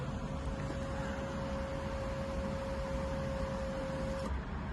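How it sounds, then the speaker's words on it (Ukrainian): The power sunshade of a 2014 Volkswagen Passat B7 Highline moving, a faint, steady electric motor whirr with a constant tone inside the quiet car cabin, stopping near the end. "Ось, наприклад, шторка так само працює."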